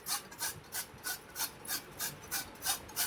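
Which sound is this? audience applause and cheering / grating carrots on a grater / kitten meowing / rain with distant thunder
grating carrots on a grater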